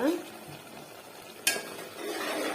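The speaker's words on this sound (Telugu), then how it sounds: "ఉడుకుతూ ఉంది పాలకూర." Spinach simmering in a little water in a pan for a spinach egg curry gives a soft bubbling sizzle with light stirring, plus one sharp utensil clack midway.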